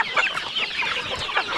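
Farm chickens cluck in a busy, overlapping chorus of short calls, close by and fairly loud.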